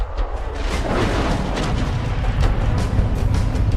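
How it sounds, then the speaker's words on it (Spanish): A deep, continuous roar of heavy volcanic explosions from Krakatoa, loud and rumbling throughout with no pause. "la zona quedó ensordecida por una serie de 4 grandes explosiones."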